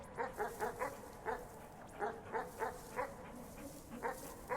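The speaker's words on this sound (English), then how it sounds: "Strange, ghostly-looking dog." Ghostly spectral dog in the video game Animal Well giving a series of about a dozen short, evenly paced yips or barks, moderately loud over a low steady background hum.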